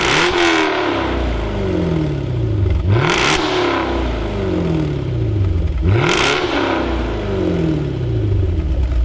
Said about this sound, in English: it's time to find out exactly what that Paramount Performance V8 Jaguar exhaust